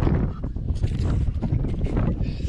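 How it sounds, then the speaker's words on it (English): Strong wind gusting outdoors on open ice at the start of the ice-fishing season, a loud steady roar with heavy low buffeting against the microphone throughout. "Oh, she's windy out here."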